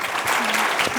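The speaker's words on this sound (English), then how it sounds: "A huge round of applause, please, for Vinod and the entire panel" Conference audience applauding a panel discussion, a brief burst of dense, steady clapping filling a large room, with a voice faintly audible underneath.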